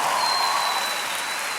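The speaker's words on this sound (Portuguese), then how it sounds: "Você pode dar uma salva de palmas para Jesus aí?" A church congregation at a youth worship service gives a dense, even round of applause, a steady wash of many hands clapping together without pause from start to finish.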